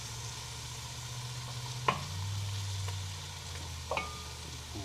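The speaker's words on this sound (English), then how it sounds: "Nice sizzle to it." A soft, continuous sizzle of vegetables frying in a hot black iron pan, with a low hum underneath and two sharp clanks of a utensil against metal.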